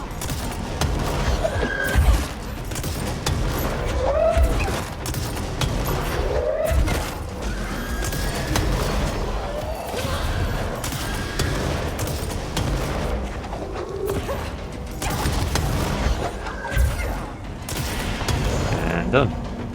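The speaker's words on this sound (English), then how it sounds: "Man, I didn't realize the rocket launcher was that effective against those guys." In the video game Control, rocket launcher fire and explosions boom repeatedly over a dense, noisy stretch of combat, with whooshes, thuds and mechanical clatter mixed together at fairly constant loudness.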